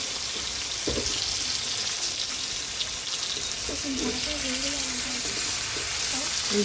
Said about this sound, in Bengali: ভালোভাবে আর কি ভাজতে হবে, ভালোভাবে ভেজে রান্না করলে মাংসটা খেতে মজা লাগে।